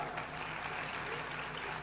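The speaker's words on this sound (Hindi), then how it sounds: "ताली बजाओ साहब," Applause from a gathered audience at a Hindu religious discourse, a steady, dense wash of clapping lasting throughout, fairly faint and without speech over it.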